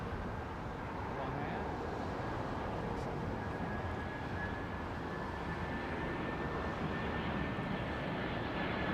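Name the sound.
Emirates Airbus A380 departing London Heathrow for Dubai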